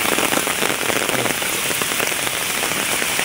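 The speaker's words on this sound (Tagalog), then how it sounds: "Sobrang lakas ng ulan." Heavy rain beats down high on a mountainside, a loud, constant hiss and patter of drops on surfaces, close and unbroken, with no talking.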